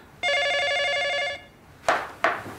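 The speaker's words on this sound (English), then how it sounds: "Telephone's ringing, but there's nobody there." A telephone bell rings in one steady burst lasting about a second, close and clear, followed by two short sharp knocks or clicks; no one speaks.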